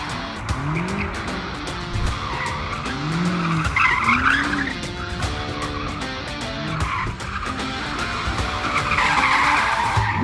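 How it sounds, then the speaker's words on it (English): A BMW M5 Competition, switched to rear-wheel-drive mode, is driven hard with its tires skidding and squealing while the engine revs rise and fall. It is loud and continuous throughout, with no talking. "here's another montage of me hooning around in an M5 Competition"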